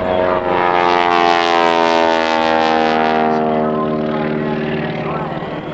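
Propeller airplane engine droning loudly at the Cleveland National Air Show during a wing-walking act, a strong steady harmonic hum that holds nearly constant pitch and fades slightly toward the end, with no voices over it.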